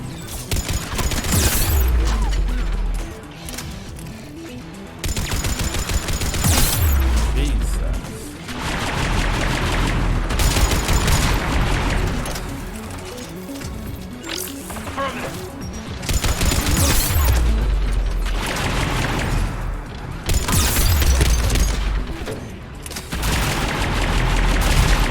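Repeated bursts of rapid turret gunfire from the video game Mass Effect 3, loud and close, coming in volleys of a few seconds each with short gaps between them across the whole stretch.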